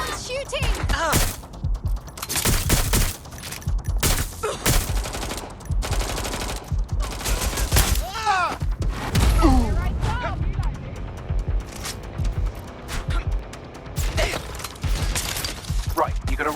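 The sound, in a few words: gunfire in the video game Watch Dogs Legion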